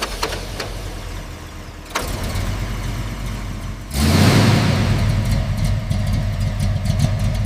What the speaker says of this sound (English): The very first turn of the key in this beautiful 66 Dart.